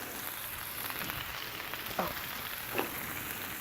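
Bacon frying on a Blackstone griddle gives a steady, close sizzle throughout, with two faint clicks or taps near the end and no talking.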